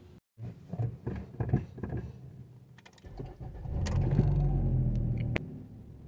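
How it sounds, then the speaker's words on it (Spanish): A car engine with a shaking problem, after a coil replacement, cranks and starts, then settles into a steady idle around 1000 rpm, close and moderately loud after a few sharp clicks and knocks. "Ya echamos a andar el motor. Las revoluciones se están estabilizando."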